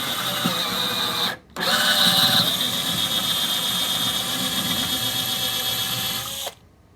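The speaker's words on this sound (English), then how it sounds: "we can then drill into the base of the cabinet" A power drill bores into a cabinet base in a long, steady whine at close range, stopping briefly near the start and then running for several seconds before cutting off.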